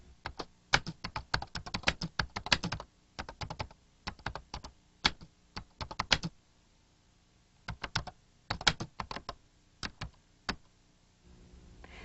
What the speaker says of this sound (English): Now type, I found it helpful for many tasks.